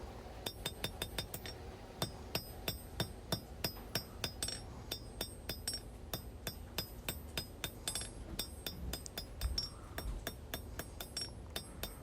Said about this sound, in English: I'm moving the steel under the hammer.